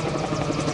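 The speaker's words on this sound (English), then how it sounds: "And overhead you'll hear all these helicopters. They're all Bell 47s" Bell 47 helicopters pass overhead at an airport during EAA AirVenture Oshkosh, giving a steady, dense rotor and engine drone that fills the short stretch without pause.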